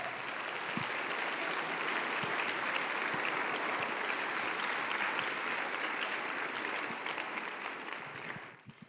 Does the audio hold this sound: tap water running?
no